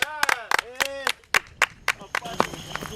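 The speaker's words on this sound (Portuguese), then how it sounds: "Palmas para o Aldo." A small film crew claps for an actor on set during the making of a historical production, several separate sharp claps following a spoken voice, with more voices near the end.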